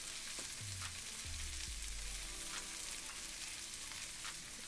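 Kimchi frying in a pan for kimchi fried rice, a soft, even sizzle that holds steady throughout, quiet and close, with no voices.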